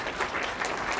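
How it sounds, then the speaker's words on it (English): A tech demo-night crowd in San Francisco applauds a presenter, a brief steady wash of clapping heard a little distant and soft. "Round of applause for Vlad."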